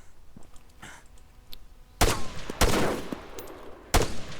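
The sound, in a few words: gunfire in ARMA 3 video game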